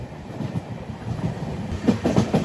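Netravati Express sleeper train running on rails between stations on the Mumbai LTT to Thiruvananthapuram route, a steady low rumble with rhythmic clickety-clack of wheels over rail joints, heard from inside the coach, moderately loud and continuous.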